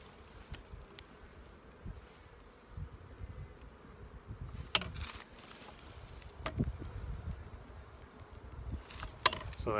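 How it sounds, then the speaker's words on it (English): Bees buzz around syrup feeding pails in a hive yard, a faint, steady outdoor hum with occasional louder passes as individual insects fly close. "Bees seem to be on the pails."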